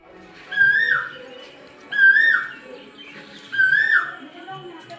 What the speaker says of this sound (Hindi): कितनी सुंदर कोयल की आवाज़ आ रही है